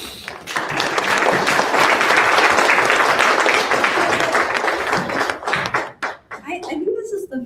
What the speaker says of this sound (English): I think this is the first funeral I've been to where there's applause after this